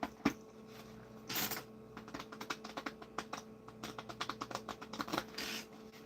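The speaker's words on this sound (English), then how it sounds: "that was a clean shuffle right there" Tarot cards shuffled by hand give a run of quick, crisp riffling taps and flutters in irregular bursts, close and moderately quiet, with no talking.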